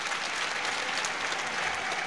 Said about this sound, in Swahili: Ndugu zangu wananchi, naomba tumpigie makofi sana Mheshimiwa Waziri Mkuu.